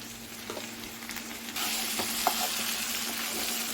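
Taro pieces frying in a nonstick pan just after chili powder is added, giving a steady close sizzle with a few light stirring scrapes and a louder burst of crackle partway through.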